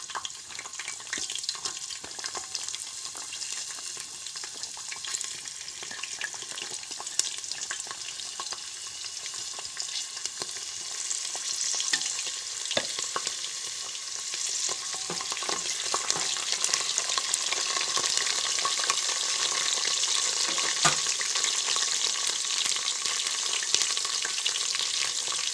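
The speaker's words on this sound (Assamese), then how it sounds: "এতিয়া আমি ইয়াতে গুচাই থোৱা নহৰু ফুটাকেইটা দি দিওঁ" Chopped garlic frying and being stirred in hot oil in a pan for an Assamese chicken curry, a steady sizzling hiss with scattered scraping stirs that grows slightly louder toward the end.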